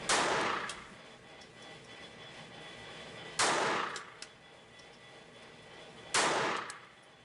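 A Taurus PT-22 .22 LR semi-automatic pistol fires at an indoor range: three sharp, loud single shots spaced a few seconds apart, each with a short ringing decay over quiet room noise.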